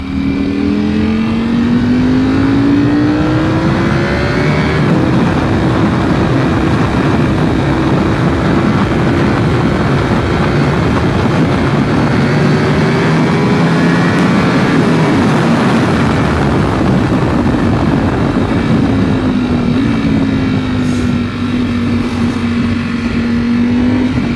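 A Ducati V4 SP motorcycle engine drones steadily and loudly in second gear at about 40 mph, holding a constant pitch that rises and dips slightly as it cruises, with wind rush throughout.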